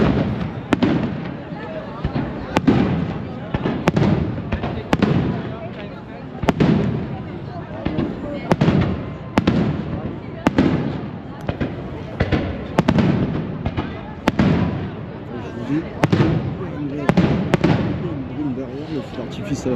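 New Year fireworks burst behind fog and clouds in a rapid string of sharp booms about a second apart, fairly near, while people talk over them.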